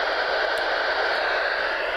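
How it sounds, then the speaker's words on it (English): Radio receiver tuned to 19 kHz gives a steady hiss of even static, constant and fairly loud for the whole moment, with no voices. "I make it that you can hear static."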